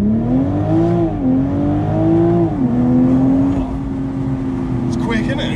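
A 2019 BMW Z4 M40i accelerating hard from a launch, its engine note climbing steadily through the gears with brief dips at each shift, loud and close, with people talking over it.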